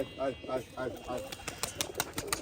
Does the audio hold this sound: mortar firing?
no